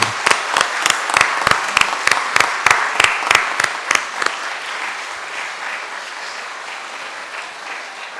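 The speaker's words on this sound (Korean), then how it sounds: "우리 큰 박수로 축하하도록 하겠습니다" A congregation at a Sunday service in a Methodist church claps together in a steady, rhythmic beat, then breaks into looser, continuous applause that slowly fades.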